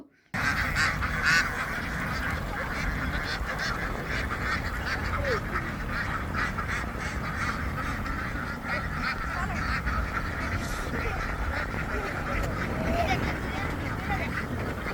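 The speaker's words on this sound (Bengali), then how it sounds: "আর হাঁসগুলো পানি থেকে পাড়ে উঠছে" A flock of ducks quacks and honks steadily as they climb out of the water onto the bank, their calls overlapping continuously with some faint background voices.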